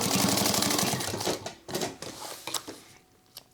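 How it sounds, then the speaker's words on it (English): A sewing machine runs a short tack stitch on a DIY sling crossbody bag, securing the buckle strap; a dense burst of rapid needle clatter comes first, then a few separate stops and short starts close by. "we're going to just do a tack stitch"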